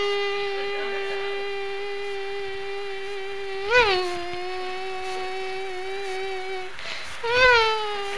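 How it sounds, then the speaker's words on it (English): A hoverfly buzzes in flight with a sustained, nasal whine close by, its pitch swooping upward twice as it darts and then settling back into a steady tone. "That's the action of the hoverfly."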